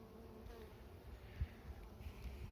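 Honey bees in an open hive during a hive inspection, a steady low buzzing hum held close throughout with one brief louder thump partway, no voices.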